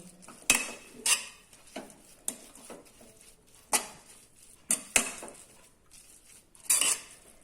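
A spoon stirs papaya sambharo with lemon juice in a bowl, giving sharp metallic clinks and scrapes at an uneven pace, close and distinct against a quiet kitchen.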